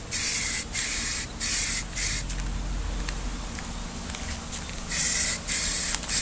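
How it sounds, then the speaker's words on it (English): Spray paint is dusted in a light first coat onto a restored 1976 square-body crew cab truck door panel, loud close hissing bursts of about half a second, repeated with short gaps and a quieter stretch in the middle. "Alright, I'm just going to dust this. Just put a light coat down first."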